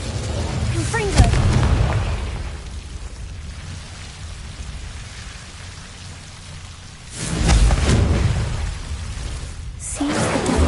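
Confringo explosive spell in Hogwarts Legacy: a heavy booming blast with crackling rumble at the start, another burst near the end, over a noisy game backdrop with a voice.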